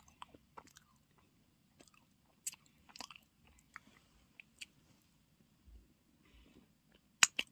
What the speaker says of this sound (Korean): 먹어치워야지.